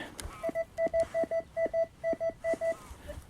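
A Rutus Atrex metal detector sounds over a ploughed field, giving a rapid run of short, clear electronic beeps in a steady stuttering rhythm, close and fairly loud.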